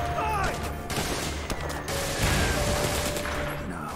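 Machine gun fire in the War Mongrels video game: dense bursts of rapid shots crackle and boom over a busy battle din for several seconds, with no talk.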